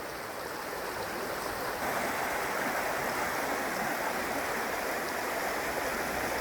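Carbon River stream rushing steadily past a small side run, a continuous close, broadband wash of flowing water with no break throughout.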